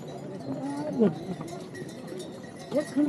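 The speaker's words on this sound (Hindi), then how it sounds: "और ये घोड़े वाले सीटियाँ मारते हुए जा रहे हैं।" Horses clip-clop along a mountain trail on the Kedarnath trek, hooves steady under close, continuous talk, with a couple of brief whistle-like rises from the horsemen.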